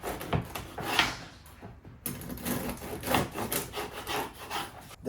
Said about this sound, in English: I'm gonna cut 2 slices of this really tough bread.